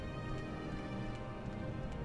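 Steady rain in Morrowind, a dense, even hiss of drops that holds close and constant without breaks.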